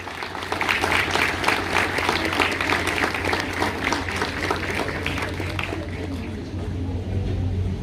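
Steady applause from an audience at a school graduation ceremony for ninth-grade and third-year students, filling the room for several seconds at moderate level and tapering slightly near the end.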